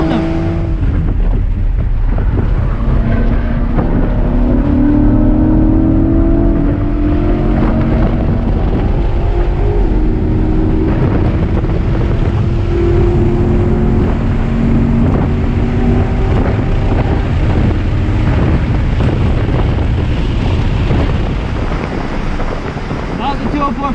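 A Corvette C8 Z51 races a Toyota Supra on the VIR track, with engine drone rising and falling in long pitch sweeps under heavy wind buffeting, loud and continuous, with occasional talk.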